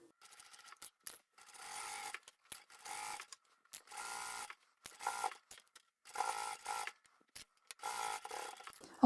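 A sewing machine stitches a fully lined drawstring backpack, running in short rapid bursts separated by brief pauses, close and fairly quiet.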